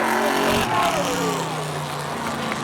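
Drag race cars accelerate off the line at Seekonk Speedway, a third-mile oval, with engine tones climbing and sweeping away in the distance while an announcer's voice carries over the crowd.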